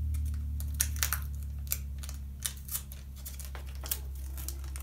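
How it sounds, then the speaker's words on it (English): Scissors cutting a thin sheet for a handmade custom patch: a handful of sparse, crisp snips and clicks spread over several seconds above a steady low electrical hum, with no talking. "It would help if I could cut it without wrinkling it too."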